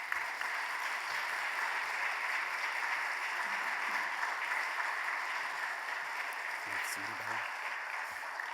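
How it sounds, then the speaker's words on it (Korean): A church congregation at a spring dawn revival service applauds steadily to welcome the pastor, a dense, continuous clapping that holds at an even level throughout with faint voices mixed in. "우리 감사의 마음도 담아서 좀 박수로 목사님 맞이했으면 좋겠습니다"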